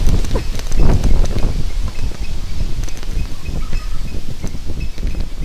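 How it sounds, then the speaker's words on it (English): Wind blows hard outdoors, buffeting the microphone with loud, uneven low rumbling gusts and a rustling texture throughout, no talk. "you hear the wind?"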